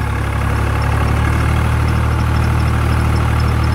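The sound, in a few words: Swaraj tractor engine running with Landforce rotavator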